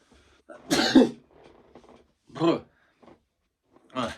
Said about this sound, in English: that sneeze shook my brain around